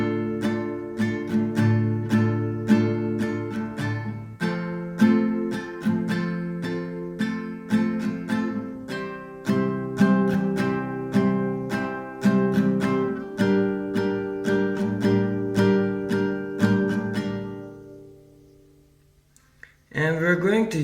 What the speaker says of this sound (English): we're going to play the strumming pattern twice for each chord